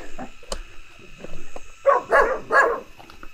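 A dog barks from somewhere inside an abandoned Qing dynasty mansion, giving a few distinct barks in quick succession near the end, fairly loud against a quiet, faintly noisy background.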